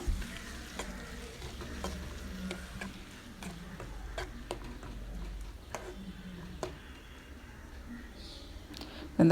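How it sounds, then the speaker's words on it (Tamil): Small pieces of chopped tomato sauté for a dried fish thokku, giving a low, faint sizzle broken by light tapping and scraping of a spoon against the pan at an irregular pace. "அதையும் ஆட் பண்ணிவிட்டு நல்லா வதக்கி விட்டுறலாம்"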